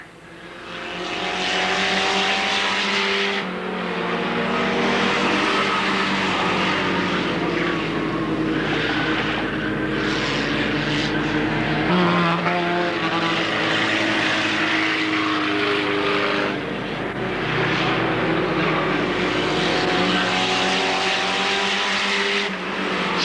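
Race cars roar along the start straight at Alwalton Raceway in 1983, with loud, continuous engine noise and pitch-shifting passes as several cars go by close.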